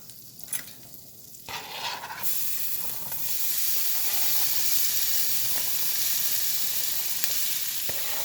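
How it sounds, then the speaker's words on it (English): Green, red, yellow and orange peppers with white onion sizzle steadily in a hot pan, a loud continuous frying hiss that swells after a few early clatters and stirring sounds and runs unbroken to the end, with no talking. "we're going to add in our peppers and onions to that. Get those sauteed a little bit."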